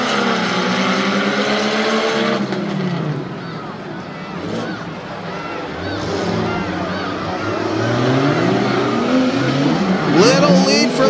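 Rough trucks, including a purple Jeep, racing on a dirt track at an All Star Monster Trucks event in Jennerstown, Pennsylvania: loud, close engines revving hard on the throttle, rising and falling in pitch, with an announcer talking over them.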